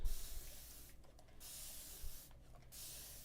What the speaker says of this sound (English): I'm going to spray my paper